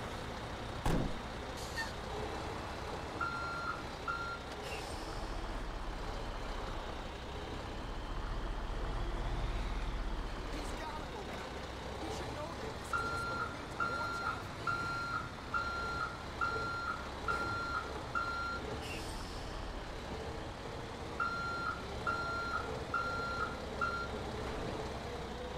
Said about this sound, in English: let's back up our truck and let's get going.